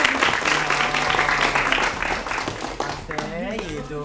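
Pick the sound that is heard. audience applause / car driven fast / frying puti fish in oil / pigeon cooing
audience applause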